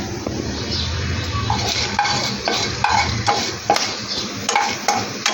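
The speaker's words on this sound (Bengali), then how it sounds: "ফোড়নটা ভাজা হয়ে গেছে এর মধ্যে দিয়ে দিলাম এক চামচ আদা রসুনের পেস্ট" Ginger-garlic paste spooned into hot oil with fried whole spices for a paneer korma, sizzling steadily and close by while a spoon scrapes and clinks against the pan at intervals.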